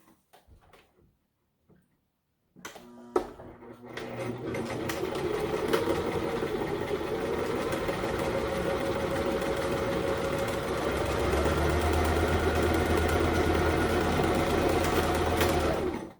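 A sewing machine stitches along a line of fabric for a washable face mask, starting after a few quiet seconds and then running as a loud, steady whirring drone close by, with no talking.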